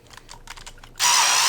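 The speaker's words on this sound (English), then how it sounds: "Let's grab my drill." A power drill starts up on an RC drift chassis with a Scale Reflex Hydra frame, loud and close, preceded by a few light clicks and taps of handling parts.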